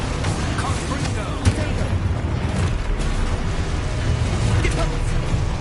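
A Confringo fire spell explodes in Hogwarts Legacy on PS5, a dense, roaring burst of blast noise with a sharper hit in the middle, loud and continuous throughout.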